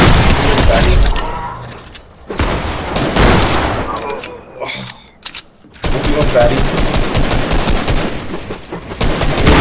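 Loud, rapid automatic gunfire rattles in dense bursts in a console shooter game, broken by short pauses and lighter crackles, with voices now and then underneath.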